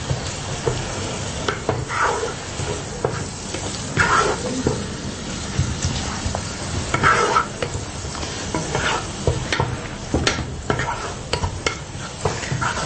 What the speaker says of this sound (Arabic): حركت مزيان